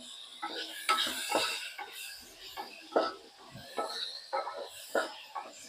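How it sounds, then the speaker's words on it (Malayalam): Pepper chicken with garam masala is stirred in a pan, with repeated scraping and clinking of a spoon against metal at an uneven rhythm over a soft sizzle, heard close up without talking. "നന്നായിട്ടൊന്ന് ഇളക്കി വെച്ച് കൊടുക്കുക"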